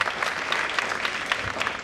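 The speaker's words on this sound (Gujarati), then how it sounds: "એમના માટે ખૂબ તાળીઓ થઈ જાય." An indoor audience claps steadily through a brief burst of applause at a skill competition event, dense and fairly close, with no talk.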